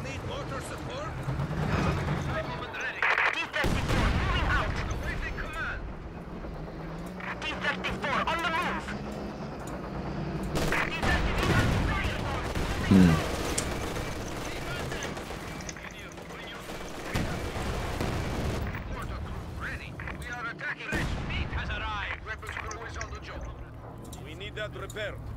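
Machine gun fire in a video game rattles in dense, sustained bursts through a busy mix, with people talking over it.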